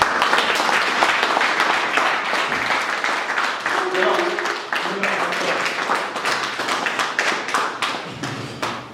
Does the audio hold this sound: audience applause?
yes